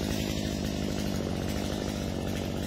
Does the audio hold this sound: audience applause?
no